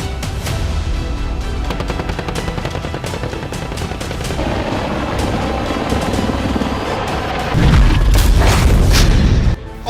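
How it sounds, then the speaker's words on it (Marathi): An Apache AH-64E attack helicopter roars loudly and continuously, with dense booming bursts like gunfire and a heavier thumping surge near the end before it cuts off abruptly. "AH-64E helicopter."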